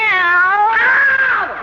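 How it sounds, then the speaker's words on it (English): A kitten meows in one long, loud, close wavering cry that rises and bends in pitch before trailing off, heard alone in a room. "She's only a kitten."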